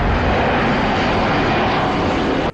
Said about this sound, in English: the plane finally takes off